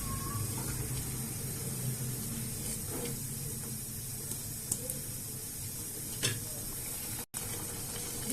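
Hot water pours into a cooking pot, a steady watery rush and faint sizzle continuing throughout, fairly quiet and heard without speech.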